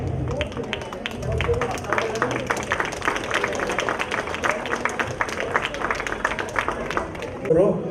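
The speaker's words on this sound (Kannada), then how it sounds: "ಇವ್ರಿಗೆ ಜೋರಾದ ಚಪ್ಪಾಳೆ ಬರಬೇಕು" A crowd at a Rajyotsava prize distribution claps steadily for a prize winner, sustained dense applause with background chatter and voices throughout.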